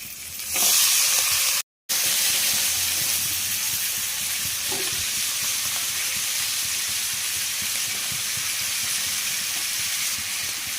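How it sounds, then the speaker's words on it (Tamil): Chopped carrots and beans fry with onions for a poriyal, giving a constant loud sizzle and hiss up close, with faint stirring scrapes beneath and one brief dropout near the start. "ஆனியன் கொஞ்சம் சாட்டே ஆனதுக்கப்புறம் அதில் நம்ம கேரட் பீன்ஸ் போட்டுக்கலாம், கட் பண்ணி வச்சது."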